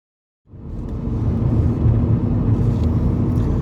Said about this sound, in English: let's take the vehicle out on the road, put it through its paces and see how it drives